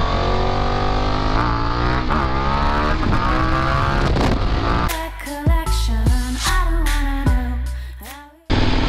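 A KTM 1090 R Adventure motorcycle being ridden, its engine droning loud and steady, then rising and falling through sharp revs and gear changes, close to the listener and with no voices.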